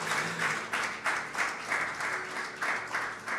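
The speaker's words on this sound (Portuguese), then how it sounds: "uma salva de palmas a Jesus Cristo." A congregation at a Pentecostal-style worship service applauds Jesus Christ with rhythmic, pulsing clapping in regular waves, loud and full, with faint voices underneath.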